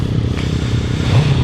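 A Suzuki Hayabusa motorcycle is ridden, its engine a loud, close, steady drone with wind rumble and a slight rise in pitch near the end.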